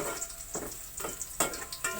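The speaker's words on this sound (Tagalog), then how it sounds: "Yan po, nagisa na po ako ng bawang." Garlic sautéing in a pan for menudo, a soft crackling sizzle with a few stirring scrapes, fairly faint and close.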